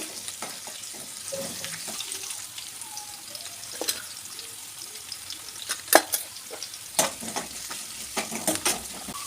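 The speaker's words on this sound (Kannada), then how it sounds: "ಕರಿಬೇವು, ಮೆಣಸಿನ್ಕಾಯಿ, ಬೆಳ್ಳುಳ್ಳಿ ಎಣ್ಣೆಯಲ್ಲಿ ಚೆನ್ನಾಗಿ ಫ್ರೈ ಆಗಬೇಕು" Curry leaves, green chilies and garlic fry in hot oil with a faint, steady sizzle, broken by several sharp clinks and scrapes of a spoon against the pan.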